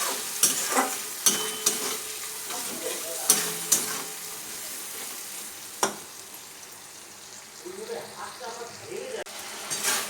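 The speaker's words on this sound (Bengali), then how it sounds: "সামান্য পরিমাণে জলের মধ্যে দেব আস্তে আস্তে মশলাটা কষাতে থাকে" Masala paste being sautéed and stirred in a pan with a little water while cooking a jackfruit-seed dal, a low steady sizzle punctuated by sharp scraping clicks of a spatula, close and moderately loud.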